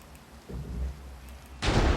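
Thunder rumbles over rain in the video game Minecraft, with two sudden broadband crashes breaking through a steady hiss of rainfall.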